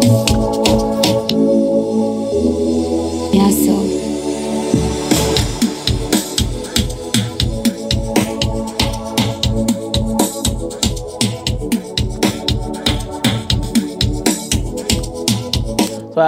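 A full Afrobeats-style beat plays loud and close, a low riser leading into a chorus with transitions, drum rolls and a punchy repeating snare over steady kicks and bass.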